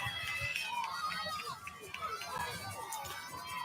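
Stadium crowd at a high school football game between Plainville and Smith Center, cheering steadily at a fourth-and-one run up the middle, a continuous distant roar with mixed voices throughout.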